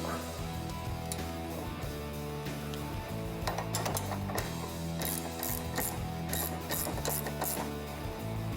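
Ratchet clicking as a BMR torque arm bolt is tightened on a 1973 Camaro Z28, a steady run of close mechanical clicks with several rapid bursts toward the end.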